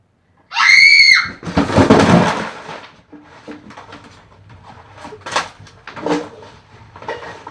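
A person lets out a sudden, loud, piercing scream that lasts about a second, followed by rustling and scattered clattering knocks nearby.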